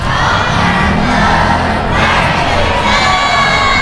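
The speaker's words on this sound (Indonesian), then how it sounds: "Dengan mengepalkan tangan, yel-yel sekolah kita SMP Muhammadiyah 3 Waru" Students of SMP Muhammadiyah 3 Waru chant their school cheer with fists raised, a loud, dense crowd of young voices shouting together continuously at close range.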